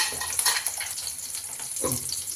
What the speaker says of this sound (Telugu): ఆనియన్స్ బాగా వేయించుకుందాం.